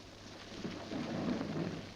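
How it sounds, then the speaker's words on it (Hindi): Steady rainfall with a soft, continuous hiss of drops on surfaces and a low rumble underneath, heard alone at moderate volume. "बारिश हो रही है और अभी लाश यहीं पड़ी है।"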